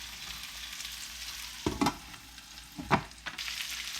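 Peppers sauté in a hot pan, a steady sizzle broken by a couple of louder stirring scrapes and bursts of crackling, with no voices.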